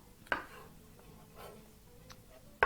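Knife slicing a mushroom thinly on a cutting board, a few sharp, close taps spaced irregularly, with faint softer cuts between them in an otherwise quiet kitchen.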